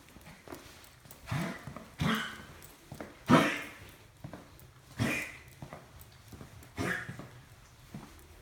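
Indoors, a dog makes about five short, gruff, fairly quiet barks, each a single burst spaced one to two seconds apart against a soft room background.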